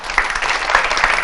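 Studio audience claps for a singer on a morning talk show, a short burst of brisk, close clapping from a small crowd, fairly loud and even for the whole moment.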